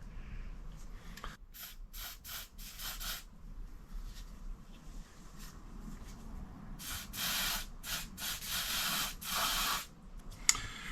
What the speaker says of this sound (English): I've got some electrical contact cleaner and MAF spray I should call it really, mass airflow sensor cleaning spray